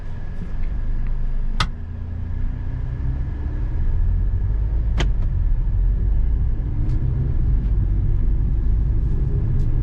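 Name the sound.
Hyundai i20 1L turbo petrol DCT car driving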